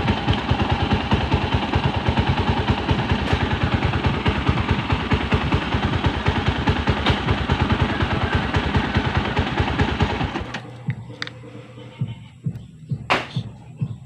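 A Rusi 200 motorcycle engine idles with a steady, rapid mechanical thumping and clatter, then cuts out near the end, leaving a quiet space broken by a few faint clicks.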